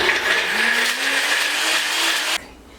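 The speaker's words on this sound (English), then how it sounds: "Now you know that I love my NutriBullet, okay? But you can use any blender." A NutriBullet blender whirs loudly through a cleanse drink, its high motor whine rising slightly in pitch as it spins, then cutting off abruptly near the end.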